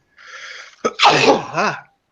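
A single sharp sneeze bursts out after a short breathy intake, close and loud, then trails into a brief throaty tail. It stands alone with no talk over it.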